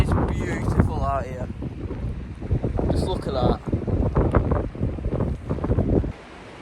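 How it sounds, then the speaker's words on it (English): Strong wind buffets the microphone at an exposed hiking campsite during tent camping in high winds, a steady rumbling roar running throughout, with a person talking over it for most of the clip. "Keep the wind out, keep the warmth in. Really windy."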